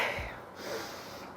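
A sharp, anxious intake of breath, a quick breathy gasp that is faint and close, followed by a soft airy exhale with no speech.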